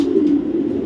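A racer pigeon gives a short, close, low coo, heard alone.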